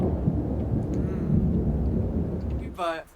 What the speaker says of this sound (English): And we're back to the lovely thunderstorm.